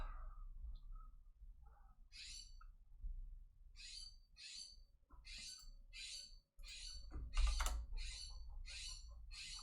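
A bird calls repeatedly outside, a rapid series of harsh squawks, sparse at first and then quickening into a steady run of about eight calls over low background rumble, close and distinct.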